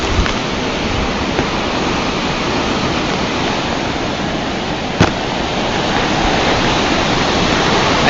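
Typhoon Rolly at signal number 5 in Bicol pours down heavy rain while strong winds roar in a dense, unbroken wash of noise, with one sharp knock partway through and no voices.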